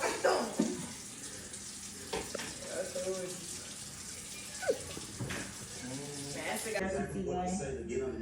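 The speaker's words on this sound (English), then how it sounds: "I appreciate you washing my bowl." A bowl is washed under a running kitchen tap, with water splashing and streaming steadily close by while people talk over it at home.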